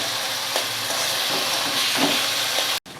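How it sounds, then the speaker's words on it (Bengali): Spices and eggplant being stirred in a hot pan for begun bhorta, with a steady close sizzle and soft scraping, cut off abruptly near the end. "মশলা আর বেগুন ভালো করে নেড়েচেড়ে মিশিয়ে নিতে হবে"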